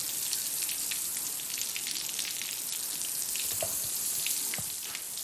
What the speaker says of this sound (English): I'm just hosing him down, cooling him off first.